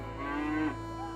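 A cow at a busy market moos once in a long, low drawn-out call, close and fairly loud over a steady background hum.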